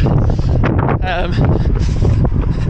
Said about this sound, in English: obviously you can already tell how windy it is